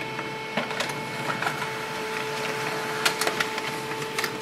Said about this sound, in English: So printer prints the information page.